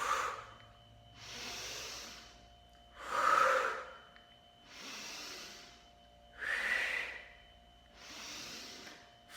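Slow, deliberate breaths during a nine-breath exercise, six long airy exhalations and inhalations in a steady rhythm about every one and a half seconds, close and soft, with some louder, harsher breaths and no talking.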